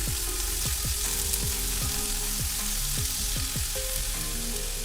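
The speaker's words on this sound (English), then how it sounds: "Next goes 3 tablespoons of onion ginger garlic paste. Fry them until the raw taste goes away." Onion, ginger and garlic paste fries steadily in a pan, a continuous close sizzle with repeated stirring scrapes in an even rhythm, no voices.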